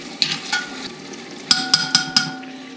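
Durban curry base of tomatoes frying in oil, a steady close sizzle broken by four or five quick stirring scrapes of a spoon against the pot, no voices.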